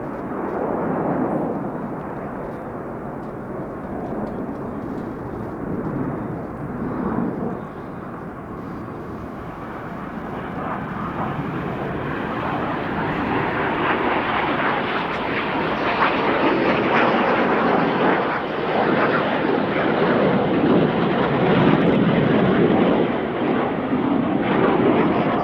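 Frecce Tricolori display jets performing aerobatics at the Royal International Air Tattoo, a loud continuous roar that swells and builds toward the end with no talk over it.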